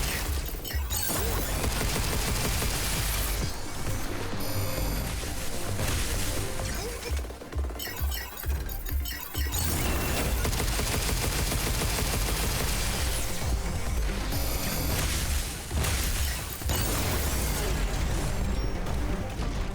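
Enemies firing at the player in the video game Pragmata, with dense, loud bursts of gunfire and crashing impacts rattling almost continuously, broken by a few short lulls.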